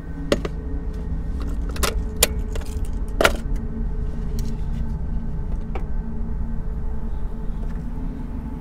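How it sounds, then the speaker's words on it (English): Car keys jangle and clink in sharp, scattered bursts as they are set on a dashboard inside a car during a roadside police stop, over the steady low hum of the idling engine. "Turn off your car. Put the keys on the dash."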